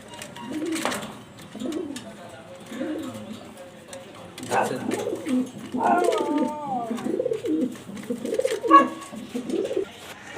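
Grizzle racer pigeons coo nearby in a loft, with repeated soft, low rolling calls that overlap one another, and a person speaks quietly in the background.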